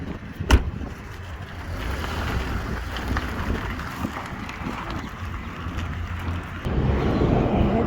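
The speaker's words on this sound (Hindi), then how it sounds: "ट्रैफिक है आज यहाँ पर ना" Road traffic on the way to the mosque: a continuous rumble of passing vehicles mixed with wind buffeting, a sharp knock near the start and the noise swelling louder toward the end.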